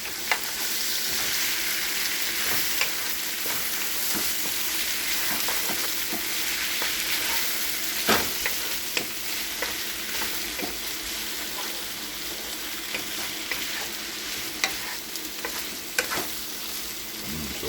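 Shallot and garlic fry in a pot in a home kitchen while being stirred, a continuous loud sizzle broken by repeated scraping and clacking of the spoon against the pot, with no voices.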